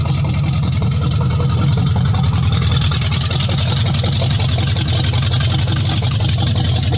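A 454 big-block V8 in a 1982 Chevy Impala idles while warming up, a loud, steady, low rumbling drone with an even pulsing throb running throughout without a break.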